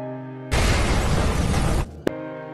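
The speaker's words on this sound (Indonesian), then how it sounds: "terjadi ledakan bom di sana" A bomb goes off at a cafe in an Indonesian film, a sudden loud broadband blast that roars for over a second over a music bed and then cuts off, followed by a single sharp hit.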